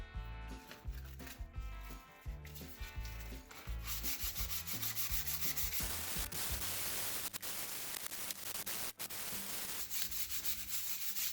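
Wooden tabletop built from firewood being scuff-sanded before a clear coat, with a steady rasping rub of abrasive on wood in long back-and-forth strokes, close and continuous.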